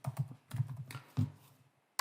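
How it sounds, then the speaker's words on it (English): Typing on a computer keyboard while entering a name into an Excel spreadsheet: short bursts of close key taps separated by brief pauses, ending in a sharper press. "So we'll go here and we'll type in Hutchinson"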